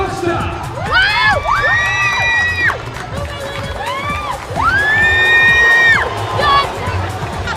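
A large crowd cheering and whooping at a night Varsity Cup rugby match, continuous roaring with rising shouts and whistle-like whoops surging in waves, close and loud.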